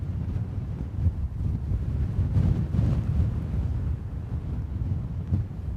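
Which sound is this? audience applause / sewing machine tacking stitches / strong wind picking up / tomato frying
strong wind picking up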